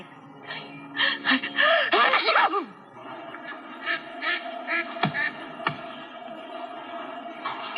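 Nasal, duck-like quacking calls come in quick bursts and then scattered single honks, fairly close, over a steady background hum; the voice may be imitating ducks.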